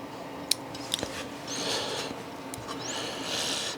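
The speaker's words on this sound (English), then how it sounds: "We'll sneak in with our scissors, cut it off as close as we can." A few crisp scissor snips cutting a feather while fly tying, two sharp clicks near the start followed by softer rustling and faint cutting sounds up close.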